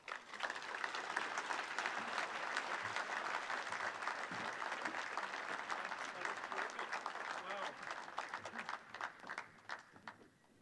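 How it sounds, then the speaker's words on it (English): Sustained applause from a large crowd at a hunger summit luncheon in Iowa, steady and dense for several seconds before tapering off at the end. "Diana Aviv, let's have one more round of applause"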